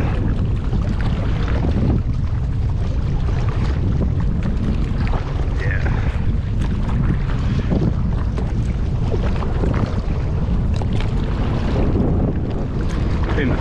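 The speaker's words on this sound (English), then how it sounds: "when the wind's blowing against you." Steady wind gusts buffet the microphone out on the Salt River from a kayak, a constant rushing roar with faint water sounds beneath and no talking.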